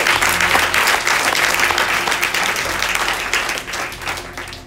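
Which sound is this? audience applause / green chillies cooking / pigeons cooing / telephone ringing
audience applause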